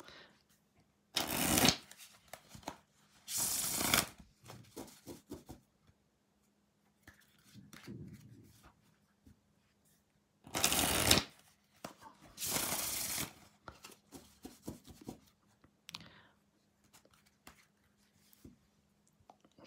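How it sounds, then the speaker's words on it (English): A deck of reading cards is shuffled close by in separate bursts, two quick riffles early and two more near the middle, with soft handling clicks and a few light taps between them and no talk. "I'm going to shuffle."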